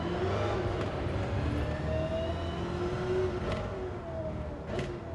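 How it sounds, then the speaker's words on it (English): In the video game Gran Turismo 7, a Chevrolet Corvette C7 engine drones steadily, its tone rising and falling through gear changes with a couple of brief whooshes, moderately loud and alone. "One of the finest sounding cars I've ever heard in the US. The old C7."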